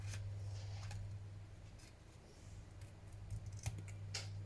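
Scissors cutting straight across a paper French tag, heard as a few faint, close snips and crisp paper rustles over a low steady hum, with no talking.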